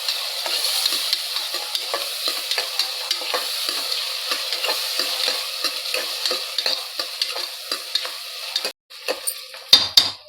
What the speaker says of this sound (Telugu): ఇప్పుడు మనం టమాటాలు వేసేసి కొంచెం ఒక 5 మినిట్స్ ఇది మగ్గనియాలి